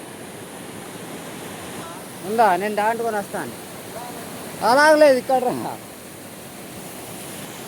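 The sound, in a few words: waterfall at a village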